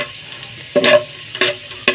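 Garlic cloves browning in three spoons of ghee in a pan while making chicken spaghetti, giving three short bursts of sizzling and stirring between quieter stretches of low frying.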